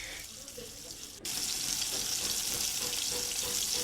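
Crushed garlic drops into hot oil in a pot and sets off a sudden loud sizzle that keeps hissing steadily after a quieter start, with faint speech in the background.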